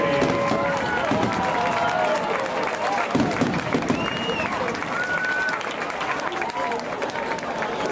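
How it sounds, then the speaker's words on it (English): A crowd claps and cheers at a distance at a high school football game, with chatter mixed in and whistles and shouts rising above the steady wash of applause. "Please give a round of applause for 2005 homecoming court"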